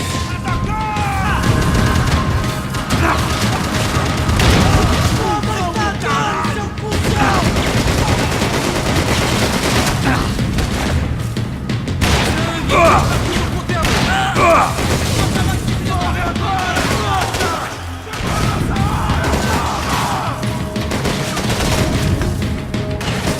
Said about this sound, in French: Ça, il y a des grenades maintenant.